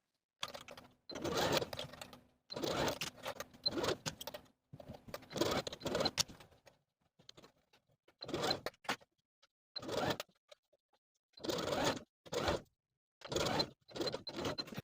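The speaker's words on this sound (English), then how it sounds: "I'm going to take it to the sewing machine and sew all the way around with a 3/8 inch seam allowance" Short bursts of machine stitching as a sleeve is sewn around the armhole of a knit dress with a 3/8 inch seam allowance, a slow, careful stop-and-start run of close, repeated spurts separated by quiet gaps.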